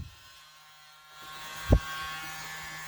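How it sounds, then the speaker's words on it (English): A small electric blower used for drying paint switches on after a moment of quiet and settles into a steady, faint buzzing hum, with one brief soft thump partway through. "We're going to go back to our baby blower. It's the little baby one."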